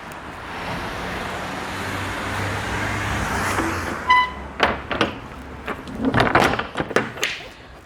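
A truck door, checked during a French heavy-vehicle licence inspection, swings shut with a latching clunk, then a string of sharp metallic knocks and rattles follows close by over steady road traffic hum.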